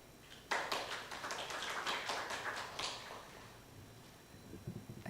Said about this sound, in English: Please join me for the applause.